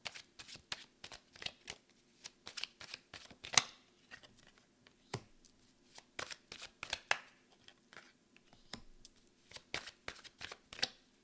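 Oracle cards being shuffled by hand, a quick run of crisp papery flicks and riffles in uneven bursts, close and fairly quiet, with no talking.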